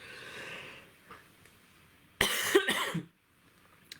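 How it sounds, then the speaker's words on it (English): A single close, sharp cough bursts out after a quiet stretch with faint breathing, followed by near silence. "I haven't coughed all day, so it's just weird."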